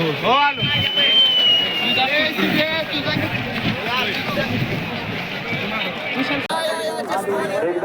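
A large crowd packs a bullock cart race ground, with dense, continuous chatter and shouting from many voices. Excited calls rise above the din throughout.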